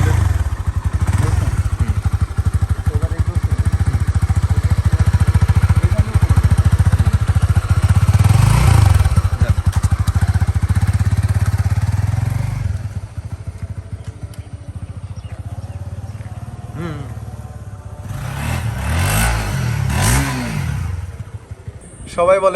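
A Honda CBR 150R motorcycle engine runs close by, holding a steady growl and then revving in two rising bursts, one near the middle and one toward the end, with a quieter stretch between them.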